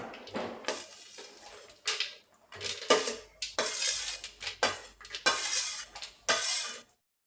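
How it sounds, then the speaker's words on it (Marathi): Cooled cooked food is scraped and tipped into a steel mixer jar, with a run of sharp clinks, scrapes and clattering bursts of spoon against metal at close range, separated by brief pauses. "तर मी हे मिक्सरच्या पॉटमध्ये ॲड करते"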